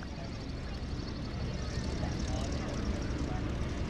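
Aerobatic airplane landing at the Greenwood Lake airshow, a steady broadband engine and propeller drone held at an even level throughout, with no talk over it.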